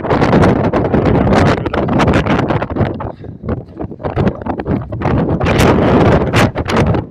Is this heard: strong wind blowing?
yes